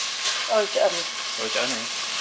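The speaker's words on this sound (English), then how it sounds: "so our pork has been cooking for about 2-3 minutes now" Pork belly fries in a pan with a steady, close hiss and crackle. A faint voice sounds briefly under the sizzle.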